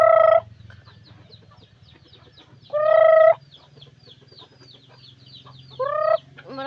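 Backyard chickens give short, bright bursts of clucking calls, three separated clusters over a low steady background hum, fairly close and otherwise quiet between calls.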